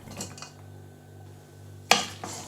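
Fried meat being tossed in a bowl with oregano, cheese and small peppers: a few soft utensil clinks, then one sharper clank of spoon against the bowl near the end, fairly quiet with no talking.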